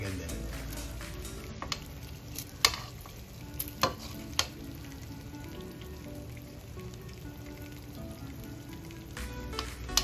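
Sugar caramelizes in a pan for turon, giving a soft, continuous bubbling sizzle broken by a few sharp taps and clicks, close and moderate in level.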